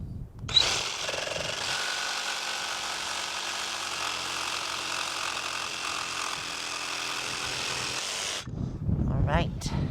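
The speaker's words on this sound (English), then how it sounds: "we're going to cut the first 2x4" A power saw whines loudly and steadily for about eight seconds while cutting a wooden 2x4 for a subfloor frame, starting abruptly and stopping sharply, followed by brief handling noise and talk.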